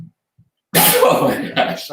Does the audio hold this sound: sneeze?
yes